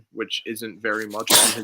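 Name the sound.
sneeze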